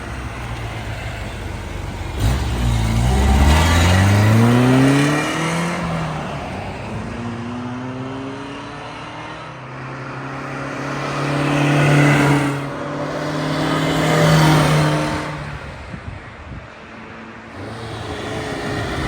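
1973 Alfa Romeo Giulia 1300 Super passing by on a twisty road, engine note swelling and fading with falling pitch as the car approaches and recedes, repeated passes with quieter gaps between them.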